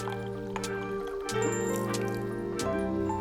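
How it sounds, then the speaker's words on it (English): A tablespoon of coffee-based liquid goes into flourless chocolate torte batter with soft drips and a small wet splash, over a steady tonal background hum. "Next up is 1 tablespoon of a coffee-based liquid."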